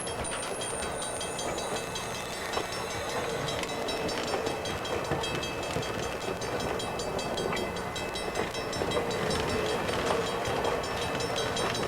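A passenger train in Canada in 1999 runs along the rails with a steady, dense rumble and rattle that holds at an even level throughout, with no talking.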